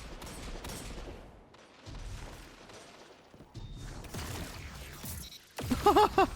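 Grenade launcher shots and explosions sound in Dead Messenger, with bursts of loud firing and heavy impacts separated by short quiet gaps and a final sharp blast.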